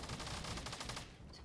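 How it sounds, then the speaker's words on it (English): Silenced SMG in the Fortnite video game fires a quick, faint, muffled burst of rapid, evenly spaced shots, lasting about a second. "Silence SMG."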